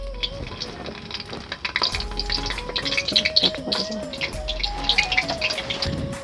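Dried red chillies fry in hot oil for ghugni, a close, steady crackling sizzle with a spoon scraping now and then, and no talk over it.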